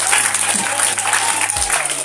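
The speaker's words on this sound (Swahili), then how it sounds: "Makofi tena mbele za Bwana" A church congregation applauds together in dense, continuous clapping, fairly close and loud, with a low hum running underneath.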